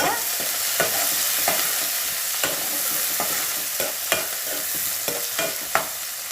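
Onion pieces fry in a hot pan with a loud, dense sizzle, punctuated by regular scraping clicks of a spatula stirring, up close and uninterrupted by speech.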